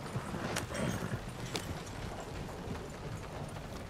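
Horses pulling a carriage in the video game Red Dead Redemption 2, with steady clip-clop hoofbeats close by and a few sharp clatters over a constant ambient bed.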